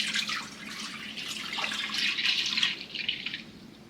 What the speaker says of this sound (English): I'm going to pour the milk in.